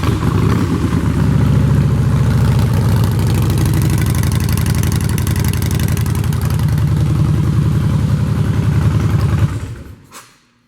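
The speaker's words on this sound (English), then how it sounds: "Sound check there to demonstrate how nice a set of Vance & Hines short shots can sound when they're hooked up to a Harley-Davidson 103 cubic inch motor" A 2014 Harley-Davidson Breakout with a 103 cubic inch V-twin and Vance & Hines Short Shots exhaust rumbles loud and close in a steady, deep idle for about nine seconds, then cuts off abruptly into near silence.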